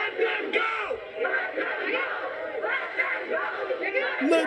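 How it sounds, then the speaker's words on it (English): A crowd of protesters at a campus encampment chants in rhythmic unison, many voices shouting together in repeated bursts, loud and close with scattered yells. "They're chanting, "Let them go.""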